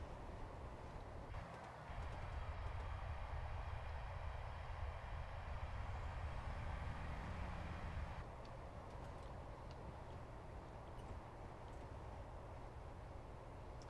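A locomotive or DMU from a Train Simulator pack grinds steadily up a very steep gradient, with a low continuous rumble and faint rhythmic ticking of the wheels, alone and fairly quiet, with a slight shift partway through.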